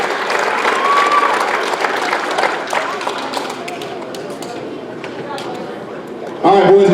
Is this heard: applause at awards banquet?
yes